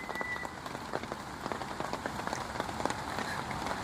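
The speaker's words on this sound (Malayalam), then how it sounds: "പുറത്ത് മഴ, ചെറിയ ചാറ്റൽ മഴ പെയ്തുകൊണ്ടിരിക്കുന്നു" Light rain patters steadily on a camping tent nearby, a soft irregular tapping of drops with no voices.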